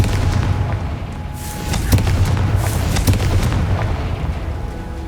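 A Confringo fire spell detonates in Hogwarts Legacy, giving a loud, sustained booming blast with rumbling low end and repeated sharp bursts across the whole stretch, with no talking.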